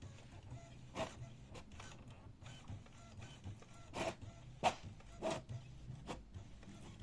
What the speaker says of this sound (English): the printer will print out a nozzle check pattern